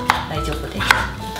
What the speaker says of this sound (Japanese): 玉ねぎは半分に切ったら